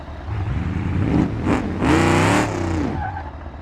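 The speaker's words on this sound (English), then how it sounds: "it's naturally aspirated with the biggest engine option available, the 423 cubic inch ultra thrust" A naturally aspirated gasser drag car with a 423 cubic inch engine revs hard in BeamNG.drive, rising in a loud sustained surge with some tire scrub before settling back to a steady idle-like drone.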